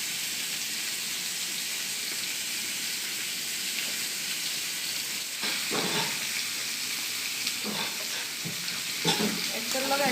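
Malabar spinach, onion and chili frying in a pan, a dense hissing sizzle throughout, joined midway by a few scraping stir strokes.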